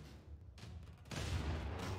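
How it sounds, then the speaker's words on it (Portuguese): Gunfire from the strategy video game Civilization VI: a quiet rumble of shots followed by a louder burst of firing and booms that holds until the end. "Mais um tiro."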